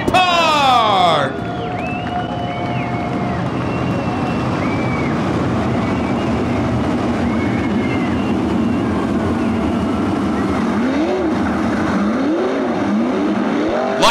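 Race cars at Attica Raceway Park speedway come out of turn four, a loud continuous engine roar filling the track while an announcer's amplified voice talks over it.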